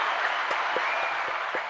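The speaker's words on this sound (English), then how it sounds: "Sticks gets a round of applause." A faint, steady wash of applause, most likely a sound effect, plays briefly on a podcast, with a few soft low thumps scattered through it.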